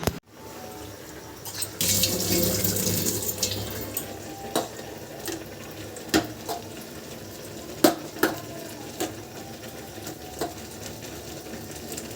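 Tap water runs steadily from a faucet while someone washes their face with face wash at home. The flow is loudest early on, then continues more softly, with occasional clinks and splashes and no talking.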